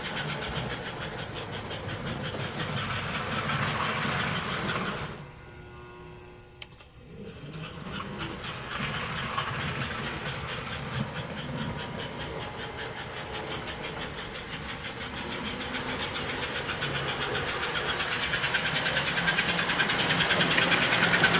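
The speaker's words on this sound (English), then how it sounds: "Yeah, this engine has lots of life in it." An American Flyer model train engine with a smoke unit runs steadily, giving a continuous mechanical hum and hiss. It dips briefly partway through, then resumes and grows slightly louder toward the end.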